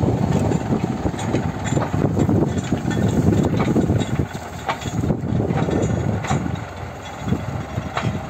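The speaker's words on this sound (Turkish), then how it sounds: "Maşallah motor kuvvetli arkadaşlar." A heavy engine runs steadily and loudly close by, a low rumbling idle with some mechanical clatter throughout.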